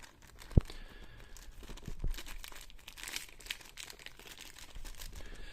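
Small plastic Animal Flex supplement sachet packets holding capsules and tablets crinkle and rustle as they are handled, with a couple of sharper crackles, fairly quiet and close.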